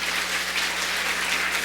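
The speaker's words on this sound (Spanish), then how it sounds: "Démosle fuerte aplauso al Señor." Sustained applause from a church congregation fills the space evenly, a dense steady patter of many hands clapping with no voices over it.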